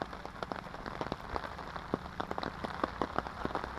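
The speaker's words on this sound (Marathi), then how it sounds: "पावसाचा आवाज तुम्हाला येत असेल तर" Heavy rain pours at Sajjangad fort in Satara, a dense steady patter with many sharp drops striking nearby surfaces, close and continuous with no voices.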